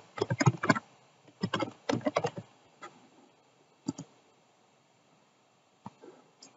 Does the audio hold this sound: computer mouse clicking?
yes